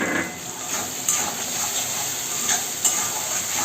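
Spices and a chopped tomato fry and are stirred in oil in a pan for a Bengali chicken liver and stomach curry: a steady sizzle with scraping stir strokes and a few sharper clinks, close and without talk.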